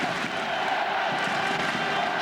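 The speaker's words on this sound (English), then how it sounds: "Just listen to the crowd." A big stadium crowd of around 40,000 at an All-Ireland hurling championship match in Killarney, a continuous roar of cheering and voices heard from within the stands, steady and broad without a break.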